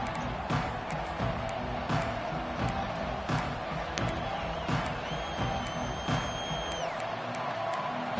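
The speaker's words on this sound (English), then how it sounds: "This crowd bringing an ear-splitting welcome to their visitors." A packed stadium crowd at a Clemson football game against Utah roars in a dense, sustained wash of cheering, with scattered whoops and shrill whistles rising above the steady din, loud and continuous throughout.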